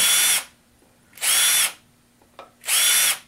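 Power drill deburring freshly drilled holes in a 6061 aluminum milling pallet, three loud high-pitched whirring bursts of about half a second each with short quiet gaps and a faint click between, no talking.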